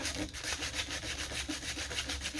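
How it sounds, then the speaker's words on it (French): Steady back-and-forth rubbing of sandpaper on wood by hand, smoothing saw marks on a speaker part, close and fairly quiet, in an even rhythm with no talking. "je peux lui donner un petit coup sur sa papier sablé, enlever tous les coups de scie"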